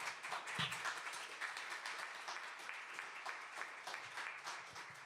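Audience applauding Sarah Patry at a podcast recording, dense steady clapping from a small crowd, fairly quiet and continuous with no talk.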